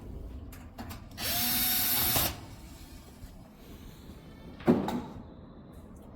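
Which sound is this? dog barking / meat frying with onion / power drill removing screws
power drill removing screws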